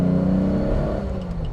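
A 1959 Aston Martin DB4, once Tadek Marek's own car, with Weber carburettors, its engine holding a steady, strong revving note that fades slightly toward the end, close up and with no talk.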